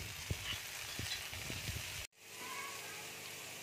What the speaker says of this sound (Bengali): দিয়ে আমি ভেজে নেব।